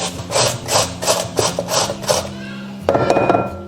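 Half a carrot is rubbed over a hand shredder, making about six rhythmic, close rasping strokes followed by a brief clatter.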